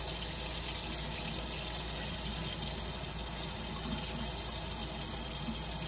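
A kitchen tap runs steadily while a jar of tomato seeds is poured into a sieve under the stream, producing a loud, continuous hissing rush of water that fills the whole clip without talk.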